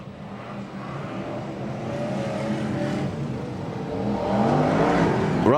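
Brisca F1 stock cars race around an oval, engines droning at middle distance and slowly building louder, with a sharp rising whine as a car closes in at the end.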